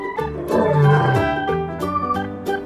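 A loud recorded lion roar played by a toy lion, a single drawn-out growling roar close up that swells and then trails off into rumbling over about two and a half seconds.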